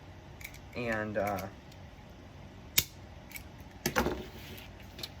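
Sharp scissor snips cutting fabric flowers for a wreath, a few crisp cuts near the mic, with a brief spoken word early on.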